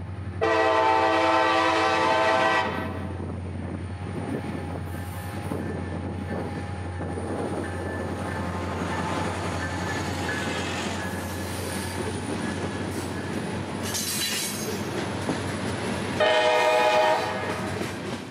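Diesel locomotive C&O 1869 leads local freight L755 past a signal, sounding long loud horn blasts at the start and end over a steady engine drone, with rolling wheel noise and squeal in between.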